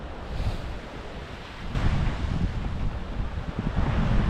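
Waves roll in and break on the beach near Hopton on Sea and Gorleston on Sea in a steady, rushing wash that swells louder partway through. Wind noise rumbles over the microphone.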